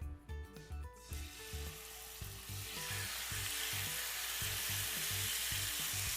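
Seasoned chicken breast pieces hit a hot skillet and sizzle, the frying starting softly, then swelling into a loud, steady hiss, with rhythmic background music underneath.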